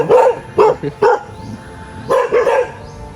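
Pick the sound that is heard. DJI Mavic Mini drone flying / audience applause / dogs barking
dogs barking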